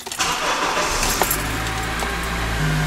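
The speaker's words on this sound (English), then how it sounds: "let's start the vehicle up." A car engine is started: a brief crank catches and settles into a steady, close idle with a low hum, after a faint jingle of keys.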